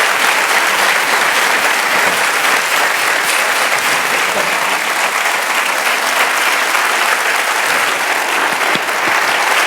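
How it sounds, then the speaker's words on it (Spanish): Sustained, loud audience applause at a Spanish literary dialogue event featuring a novelist, steady dense clapping filling the whole stretch without a break. "que te lleves de nosotros este fuerte aplauso"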